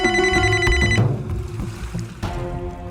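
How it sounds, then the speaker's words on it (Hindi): A phone rings in a hotel room at night, a bright, tonal electronic ringtone repeating near and clear, with a brief pause before it sounds again. "मेरे रूम में ये किसका फोन बज रहा है"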